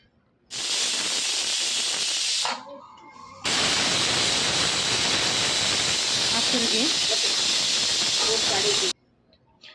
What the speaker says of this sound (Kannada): ಈಗ ಎರಡು ವಿಷಲ್ ಹೊಡೆಸ್ಕೊಳ್ಳಿ